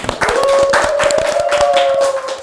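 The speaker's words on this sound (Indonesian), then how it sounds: "Tepuk tangannya dong teman-teman." Friends in a small studio audience clap for an arriving guest, a brief burst of quick, close handclaps with a faint tone running beneath.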